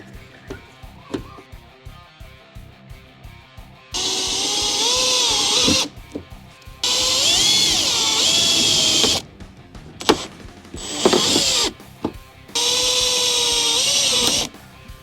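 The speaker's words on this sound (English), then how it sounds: "Now all that's left is pretty much screwing her up and we're good to go." A power drill drives screws to fix a 12V camping light in place, several sustained whirring bursts of a few seconds each separated by short pauses and light handling clatter, fairly loud and close.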